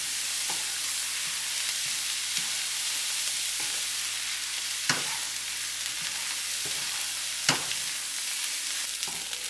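Chicken andouille sausage fried rice being stirred through sauce in a hot pan, a steady sizzle with scraping spatula knocks at irregular intervals, a few sharper clacks standing out.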